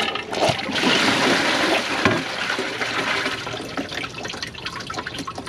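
A 2015 Kohler Wellworth Class 5 toilet with a Portrait Lite tank flushes while loaded with socks and bags, giving a loud, steady rush of swirling water for several seconds that slowly thins out toward the end.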